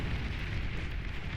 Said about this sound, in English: when they die, they do cause quite a substantial explosion around them